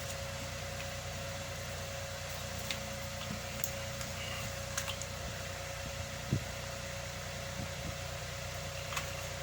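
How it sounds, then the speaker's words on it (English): A steady electric fan hums and whirs throughout, a constant broadband drone with a faint tonal whine, with a few small clicks and knocks on top. "I apologise for the fan noise in the background"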